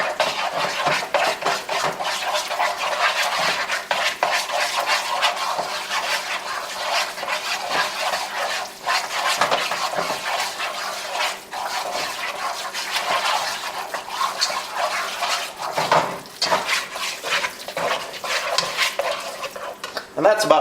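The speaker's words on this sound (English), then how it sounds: "And then you're going to stir all of this together" Shepherd's pie filling stirred in a pan, a steady scraping and clinking of a utensil against metal over a soft sizzle, continuous and fairly close for about twenty seconds with no talking.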